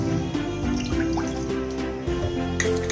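About half a cup of water is poured into a cooking vessel for guava cheese, making a close trickle with dripping and splashing sounds that is fairly constant throughout.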